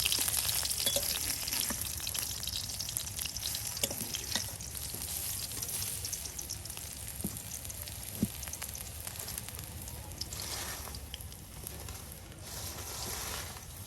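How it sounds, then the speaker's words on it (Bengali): Prawn and lentil fritters sizzle steadily in hot oil over an outdoor cooking fire, a dense, continuous crackle and hiss with a few louder pops, close by and heard alone. "এই যে এদিকে দাদি আপনার বড়াগুলো সুন্দর করে তেলের সাথে ভাজি ভাজি করে নিচ্ছে"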